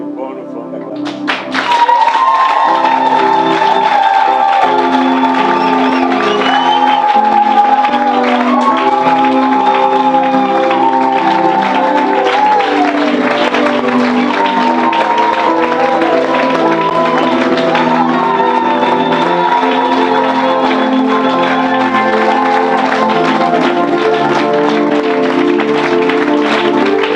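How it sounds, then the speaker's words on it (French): A church congregation applauds and cheers for nearly half a minute, dense steady clapping mixed with shouts and rising voices, loud and sustained throughout with music-like tones underneath. "Nous allons nous lever et lui donner une bonne offrande d'acclamation."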